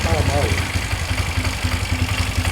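A 2001 Polaris Scrambler 500 ATV engine idles close by in a steady, loud, even pulsing rhythm, with a voice briefly heard over it at the start.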